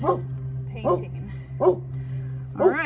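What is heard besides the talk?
dog barking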